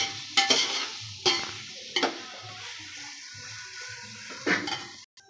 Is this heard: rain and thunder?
no